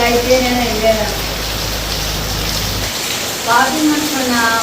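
Heavy rain pours down in a loud, dense, continuous roar of water while people talk over it at the start and end.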